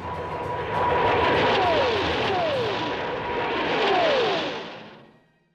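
English Electric Lightning jet aircraft passing close and loud, a steady roaring engine swell that rises, holds, surges again and then fades away.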